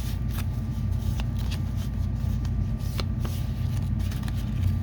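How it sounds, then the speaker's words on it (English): Playing cards for a baseball board game are shuffled near the microphone, sending out repeated riffling bursts and soft snaps in a loose rhythm over a low steady hum. "just make sure you get the cards shuffled"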